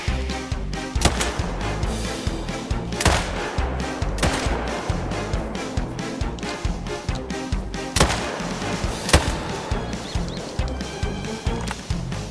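A .308 rifle fires in theHunter: Call of the Wild during a stampede, with several sharp, loud reports spaced a second or more apart over a dense, continuous game soundtrack.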